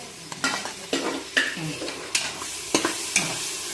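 Mutton masala with tomatoes being stirred and fried in a pan, with repeated scraping strokes of a spoon against the pan over a steady sizzle, close and moderately loud.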